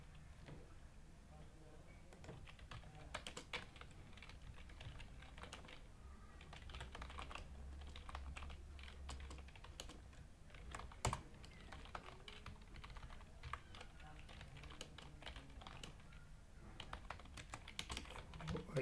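Steady typing of code on a computer keyboard, a continuous run of quick key clicks at close range with occasional louder keystrokes, no talk over it.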